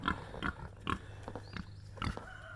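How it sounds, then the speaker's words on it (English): Pigs on a muddy homestead after rain give several short, snorting grunts at close range, spaced irregularly over a low background. "First, we'll say hello to the pigs."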